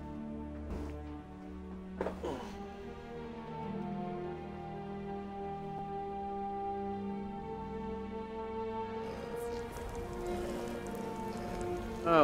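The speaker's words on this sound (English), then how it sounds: "Raining here too." Steady rain in the video game Skyrim Anniversary Edition patters over a continuous layer of music-like tones, with a brief louder splash of noise near the end.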